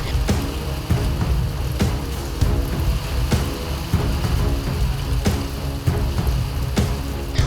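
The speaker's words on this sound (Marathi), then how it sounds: "अचानक अवकाळी पावसाच्या सरी बरसल्या" Sudden unseasonal rain shower over the town of Dodamarg, with stormy wind, a dense steady patter and hiss, broken by periodic thuds or splats, with a faint engine rumble beneath.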